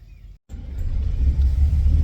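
Low rumbling engine drone from inside a moving bus on a rainy day, starting after a brief cut and building into a steady, fairly loud interior roar with no talking.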